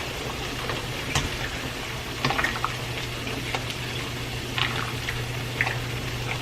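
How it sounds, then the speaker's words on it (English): Fettuccine noodles cook in a pot of boiling water that bubbles and gurgles steadily at close range, with a low hum underneath and a few soft splashes. "my noodles are also cooking"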